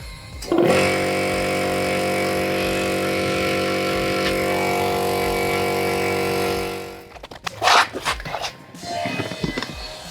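A pneumatic jack lifting the whole rear of a car releases a loud, steady hissing drone that holds for several seconds, then cuts off, followed by a few knocks and rattles and a brief voice.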